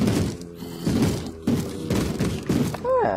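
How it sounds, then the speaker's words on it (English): A zombie in a Minecraft-style game bangs on a wooden door in repeated heavy thuds, about five roughly regular blows, loud and close, with a short groan-like sound at the end. "I have decided in my boundless generosity to give you your very own non-stop door banging zombie noise danger."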